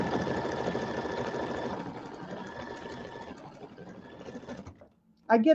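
An embroidery machine stitching Christmas quilt blocks, a close steady mechanical whirring that slows and fades before stopping, then a sudden louder clatter at the end, with a voice briefly heard.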